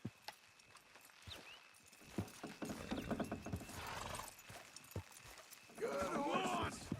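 Horse hooves clip-clop and gallop in the video game Red Dead Redemption II, with uneven thuds building in pace, a whinny, and voices talking over the hoofbeats.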